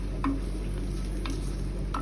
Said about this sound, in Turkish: Üstüne doğradığım havuçları alıyorum. Bunları kavuracağız yumuşamasıyla.